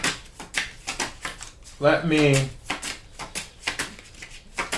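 Tarot cards are shuffled and drawn in a fast run of crisp, rhythmic riffling flicks close up, with a brief spoken voice breaking in partway through.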